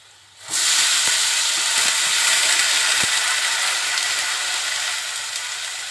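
Chopped potatoes hit hot oil with turmeric and erupt into a loud, steady sizzle. The hiss stays strong and even throughout, easing only slightly toward the end, with a few faint utensil clicks.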